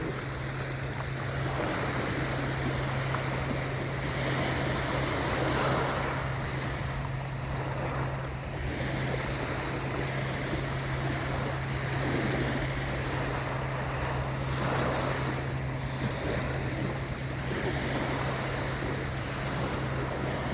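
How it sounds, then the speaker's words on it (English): Ocean surf rolling onto a beach at Pass-a-Grille or St. Pete, Florida, a steady broad roar of waves with wind buffeting the microphone, continuous throughout with no voices. "I like its sound. Ocean sound."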